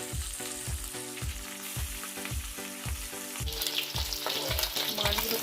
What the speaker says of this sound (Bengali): এবার কড়াইয়ের মধ্যে আমি তেলটা দিয়ে দেবো আর একে একে মাছগুলোকে সব ভেজে তুলে নেব।